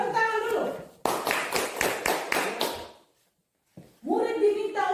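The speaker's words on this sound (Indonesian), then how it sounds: "Tepuk tangan dulu." Schoolchildren clap together in a quick rhythmic pattern of about five sharp bursts, followed by a pause of near silence, with voices talking before and after.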